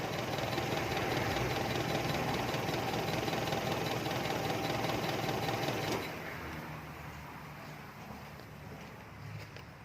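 An engine on a failing, weakly charged battery runs loud and rough with a rattling idle for about six seconds, then cuts to a much quieter low hum.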